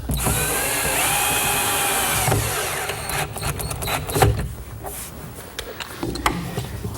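A power driver runs a screw into a melamine cabinet end panel with a washer, whirring for about three seconds before it gives way to a few sharp clicks and knocks of workshop handling.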